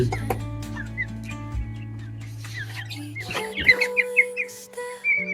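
Chickens cluck close by, with short rhythmic clucks and bird calls that grow busier toward the end over a low background hum, with no talking.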